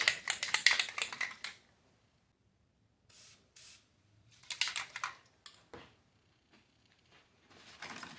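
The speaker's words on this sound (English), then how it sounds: "going to put a little fluid film on the threads" Fluid Film lubricant sprays onto bolt threads in several short hissing bursts, close and fairly crisp, separated by silent gaps, the first burst the longest.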